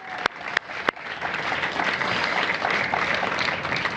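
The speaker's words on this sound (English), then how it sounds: "Let's give a big round of applause for Adrian Todman." Audience applause at an outdoor groundbreaking ceremony for Square 769N: a few sharp separate claps first, then a dense, steady wash of clapping from a crowd that holds to the end.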